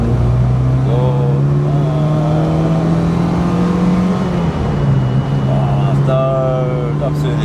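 A Mk1 Golf Cabriolet engine drones loudly from inside the car as it pulls through the gears, with a steady hum that dips at a shift partway through. Someone talks over the engine.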